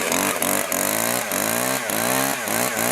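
A chainsaw running at high revs, its loud harmonic engine whine rising and dipping in repeated surges, with short sharp breaks roughly every half second, close and loud with no talk over it.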